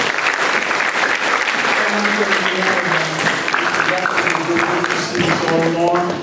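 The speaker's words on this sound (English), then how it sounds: "let's give them another round of applause to the parents" Loud applause from a sizable crowd at a student council installation, continuous clapping with a few voices and cheers mixed in throughout.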